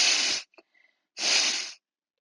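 Two strong, noisy nasal blasts a second apart during neti sinus cleansing, each a forceful exhale through the nose expelling water, with faint wet drips and sniffles in the short gap between them.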